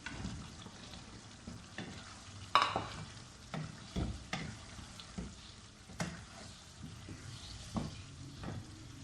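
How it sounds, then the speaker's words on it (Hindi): Chicken roasting in a pan as potatoes are added, with a low steady sizzle broken by repeated scraping stirs and clattering spoon knocks, close by and without talk. "चिकन हमारा अच्छी तरह रोस्ट हो चुका। अब इसके अंदर हम आलू डाल लेते हैं।"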